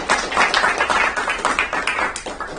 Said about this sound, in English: please welcome Dr. Bahrani with a round of applause